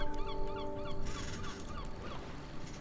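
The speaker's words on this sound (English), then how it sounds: "I'll pick up the seagull rock that is still over here playing seagull sounds" A seagull rock plays recorded gull cries at a tabletop role-play game session, a run of repeated honking squawks over a busy background.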